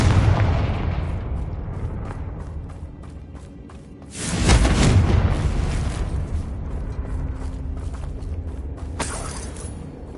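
A Confringo fire spell in Hogwarts Legacy detonates with a loud, booming explosion, followed by a long rumbling tail and a second, smaller burst near the end.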